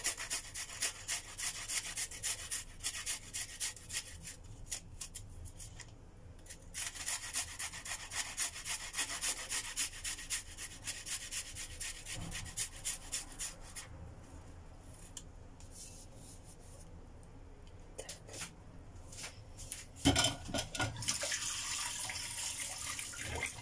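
Garlic cloves rubbed across a metal grater in a home kitchen, a steady scraping rasp repeated in short strokes, close and moderately loud, with brief pauses between passes.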